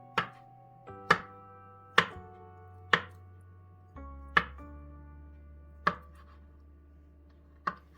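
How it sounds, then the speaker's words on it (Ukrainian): A knife cuts boiled eggs into strips on a board, giving seven crisp, evenly spaced chops about a second apart, each with a brief ringing decay, close and otherwise quiet. "відразу відправляємо їх у посуд і будемо нарізати яйця"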